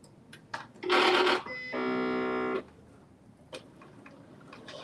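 A sewing machine, just switched on, runs for about a second and a half: a brief rough mechanical burst, then a steady humming whir that cuts off abruptly, framed by light clicks and taps, close and with no talk.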